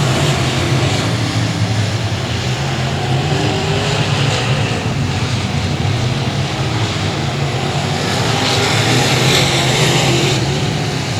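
Race cars battling for the lead at 281 Speedway make a continuous, loud roar of engines at full throttle, a dense and steady wall of noise with no break.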